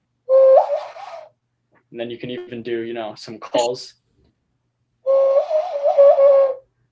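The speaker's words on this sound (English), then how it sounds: "Yeah. A hand whistle." A hand whistle blown through cupped hands, producing two sustained warbling bird-like calls, clear and close, separated by a stretch of someone talking.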